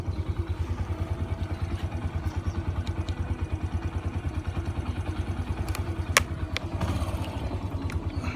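Several motorcycles idle and pull away together on a ride along Route 955, a steady, loud engine chug with rapid rhythmic firing pulses throughout, a few clanks and clatters near the end.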